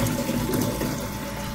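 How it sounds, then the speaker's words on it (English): Water running steadily from a tap into a container, filling it up for a sink-or-float experiment, a continuous broadband rush with no voices. "while we fill up our water"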